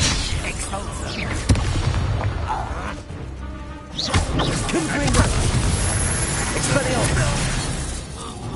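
Expulsor blast spell going off in Hogwarts Legacy, a loud booming burst amid dense, continuous combat noise with a brief lull before the fight surges again.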